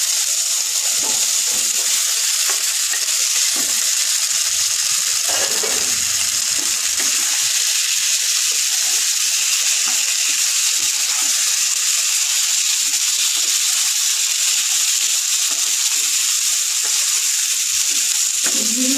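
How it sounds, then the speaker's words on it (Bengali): Mixed vegetables sautéing in black pepper paste for a Bengali vegetable curry, with a loud, unbroken hiss and sizzle close up and occasional soft stirring sounds, without any talking. "গোলমরিচের বাটা দিয়ে কষা দিচ্ছি। সবজিগুলো আমি দিয়ে দেবো"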